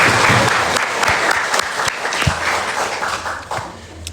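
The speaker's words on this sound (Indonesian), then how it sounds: "Kasih tepuk tangan buat kita semua." A crowd at an anniversary celebration claps steadily for about four seconds, dense and close, easing off slightly toward the end.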